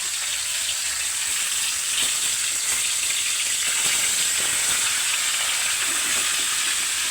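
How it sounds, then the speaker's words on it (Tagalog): Two big tilapia fry in a smoking hot pan, giving a loud, continuous close sizzle and crackle with hissing steam throughout. "Iprituhin na lang natin mga kagala"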